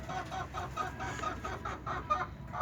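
Backyard chickens cluck in short repeated calls on a rural Egyptian farm, close by and moderately loud over a low background rumble.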